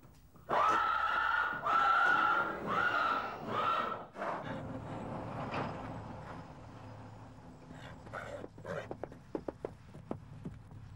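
Akhal-Teke horses at the Turkmen national stud near Ashgabat, one loud neigh followed by a few more, then quieter stable noise with scattered hoof clicks and knocks.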